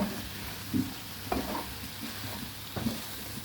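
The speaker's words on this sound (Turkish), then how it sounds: "şöyle bir karıştıralım" Mushrooms fry quietly in a pan with a soft, steady sizzle while a utensil stirs them, giving a few faint scraping knocks at irregular moments.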